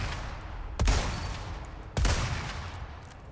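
Two loud gunshots ring out about a second apart in the video game Resident Evil 4 Remake, each a sharp blast with a booming tail that decays slowly.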